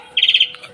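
A single quick burst of bright, high chirping from an Asian pied starling, brief and fairly close, then quiet.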